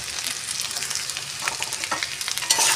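Chopped medium-sized tomato lands in frying ginger in a pan and gets stirred, a close, steady sizzle with scraping spoon strokes growing busier toward the end.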